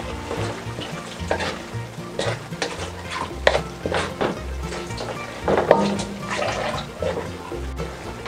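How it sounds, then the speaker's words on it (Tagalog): Squid adobo with eggs is stirred in a pan over a soft sizzle, with a spoon scraping and clinking against the metal in irregular bursts, close and moderately loud, no voices. "Tapos hahaluin po natin."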